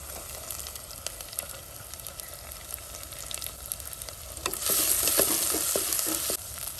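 Garlic, green chilies and an inch of ginger fry and sizzle in a pan for a Mangalorean tomato saar, a steady close crackle that grows louder and brighter near the end, with occasional stirring clinks and no talk.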